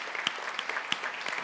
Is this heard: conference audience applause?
yes